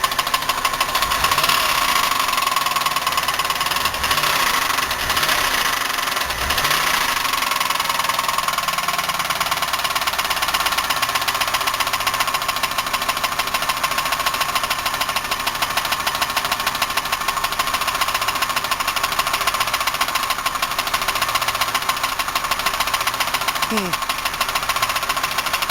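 Buick 3800 engine running with its valve covers off and a knock from the bearings, lifters or rods, heard as a steady close mechanical clatter and drone throughout, with a few louder thumps early on.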